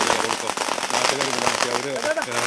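Firecrackers burst in a dense, rapid crackle during a local celebration in Mananthavady, Kerala, heard under people talking nearby.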